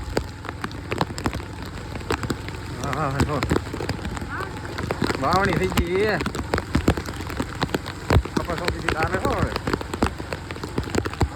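Steady heavy rain pours down throughout during a cyclone in Gujarat, a dense hiss with scattered drops, while people talk over it.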